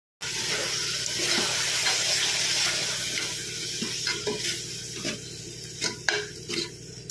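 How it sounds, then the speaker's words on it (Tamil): A spoon stirs yogurt into mutton gravy in a pan over sizzling, with soft scraping strokes that grow more distinct and rhythmic toward the end. "ஆட் பண்ணிவிட்டு அதையும் எல்லாத்தையும் நல்லா ஒன்றா கலர்ற மாதிரி நல்லா மிக்ஸ் பண்ணிக்கலாம்"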